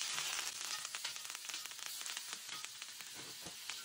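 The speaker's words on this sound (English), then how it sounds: "Then I add the garlic, butter, onion, and thyme, stir it around so it doesn't burn." A ribeye steak sizzling in a cast-iron skillet with garlic, butter, onion and thyme, giving a dense, continuous crackle and spatter that stays fairly quiet and even throughout, with no voices.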